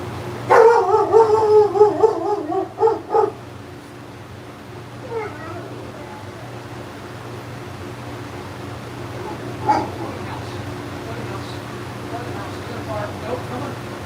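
A dog howls and whimpers in a few rising, wavering cries early on, then falls quiet under a steady low hum, with faint yelps later and no talk.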